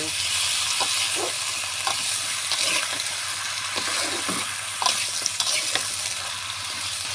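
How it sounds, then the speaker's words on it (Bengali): Malabar spinach and potato being sautéed in a pan with oil, a continuous near sizzle broken by repeated scraping and stirring strokes. "আলু আর পুঁইশাক কেটে রেখেছি এটা দিয়ে দিব দিয়ে সুন্দর করে পুঁইশাকটা কষাই নেব"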